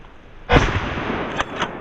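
A single sharp rifle shot rings out during a wild boar hunt outdoors, a loud blast followed by a trailing rumble and a couple of faint later pops.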